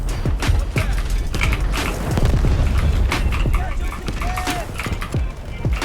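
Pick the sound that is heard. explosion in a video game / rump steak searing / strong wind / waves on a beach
explosion in a video game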